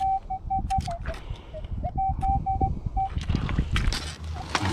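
A metal detector gives a run of short, high-pitched electronic beeps in quick irregular bursts, signaling a coin on a receding lake bottom, over scraping and rustling from digging nearby.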